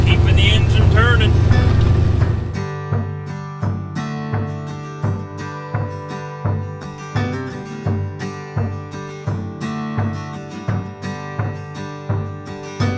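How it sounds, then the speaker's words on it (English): A semi truck engine idles with a steady low rumble and regular pulsing throb that comes in after a loud opening burst, running close and loud throughout. "just doing my part, keeping the engine turning."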